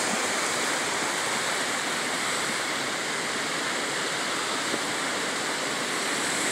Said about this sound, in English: She's big enough for a waterfall now, definitely, 100 feet high